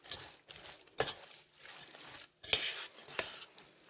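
A spoon scrapes and stirs through heavy cream in a crockpot dinner, making soft wet swishes and a few sharp clinks against the pot in short irregular bursts at low volume.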